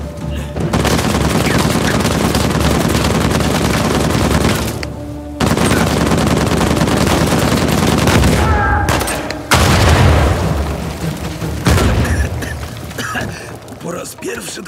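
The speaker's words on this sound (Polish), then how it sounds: "Doceniłem wybuchające mumie Avery'ego" Exploding mummies in Uncharted 4 go off in a long, loud barrage of booms and crackling blasts, with short breaks between bursts and gunfire-like rattling throughout.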